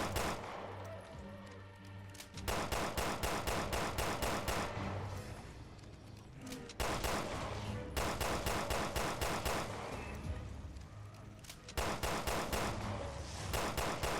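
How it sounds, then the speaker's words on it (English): Gunfire erupts while shooting enemies in the raid mode of Resident Evil Revelations 2: loud, sustained rapid-fire bursts of shots run almost continuously, broken only by brief quieter gaps, with no talking over them. "And then go ahead and shoot them."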